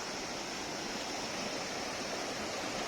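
A river in Nepal rushes over stones in a constant, soft hiss of flowing water, heard from nearby with no voices.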